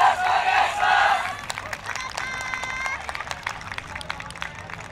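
A crowd at an outdoor YOSAKOI dance performance cheers and claps loudly for about a second, then the noise drops to a lower murmur of scattered voices and claps.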